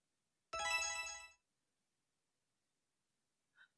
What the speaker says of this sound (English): Did your phone wake you up?